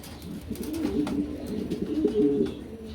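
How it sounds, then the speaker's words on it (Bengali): Pigeons coo in soft, repeated low murmurs throughout a pet pigeon sale, steady and close, with no talking over them. "এখানে কিন্তু আরও এক জোড়া কবুতর আছে দেখার মতন"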